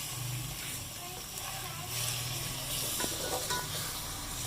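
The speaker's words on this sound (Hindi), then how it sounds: "ये देखिए मैंने अदरक लहसुन के बाद अब हमने कीमा डाल दिया" Minced meat sizzling in a pan after ginger and garlic have been fried, a steady hissing fry with occasional crackles throughout; someone speaks over it.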